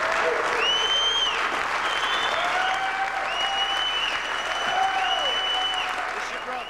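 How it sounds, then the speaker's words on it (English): An audience rises in a standing ovation after a talk on courage at a Christian gathering, sustained loud applause filling the room for several seconds, with cheers and whoops rising above the clapping. "It took so much courage that the crowd got the point after a day of talking about courage, and when Brewer finished, they stood up for"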